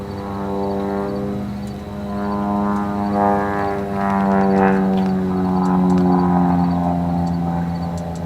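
A single-engine aerobatic propeller plane works through a turn at an air show, its droning engine rising and falling in pitch as it banks, fairly close and steady with no talk.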